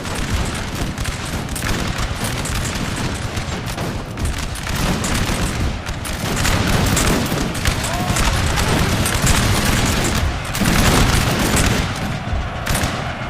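Massed musket volleys and cannon booms from a Napoleonic field battle in Napoleon: Total War with the NTW3 mod, a dense continuous roar of gunfire with repeated heavy blasts, loud throughout.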